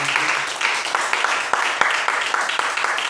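A church congregation applauding, dense continuous clapping with a few sharper individual claps standing out, filling the space for a few seconds with faint voices mixed in.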